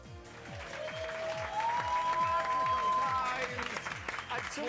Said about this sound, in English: we'll give you another round of applause